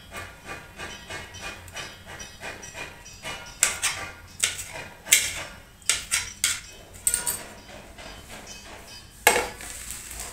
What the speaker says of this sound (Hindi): तो इसलिए पहले मैं हरी मिर्च काट लेती हूँ।